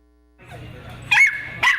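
Dogs bark at a nonprofit animal shelter: a low rumble of growling gives way to two sharp, high barks about half a second apart, near and loud.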